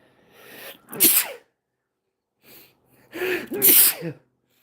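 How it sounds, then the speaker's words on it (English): Close, loud sneezes set off by a sauce: a sharp one, a brief pause, then a quick intake of breath and another forceful sneeze. "Oh my god, that sauce is making me sneeze."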